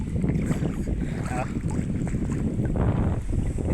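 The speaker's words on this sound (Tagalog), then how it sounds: "Malakas yung hangin." Strong wind on the Binahan River buffets the microphone in a loud, continuous roar, with choppy water sloshing around a boat and a brief voice in the gusts.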